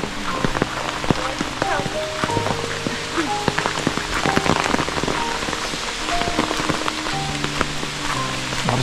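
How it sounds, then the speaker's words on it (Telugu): Heavy monsoon rain pours down steadily on a Maharashtra hill road near Mahabaleshwar, a dense, loud, unbroken patter with scattered sharper drops and a few faint voice fragments underneath. "వర్షం సౌండ్ తప్ప ఏ సౌండ్ లేదు, ఎవ్వరూ లేరు ఇక్కడ వర్షం సౌండ్ తప్ప"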